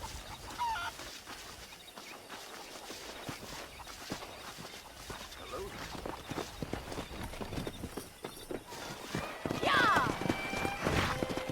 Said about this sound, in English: Let's see if we can't wrangle some horses.